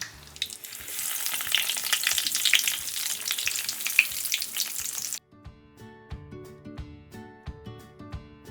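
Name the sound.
hash browns frying in a pan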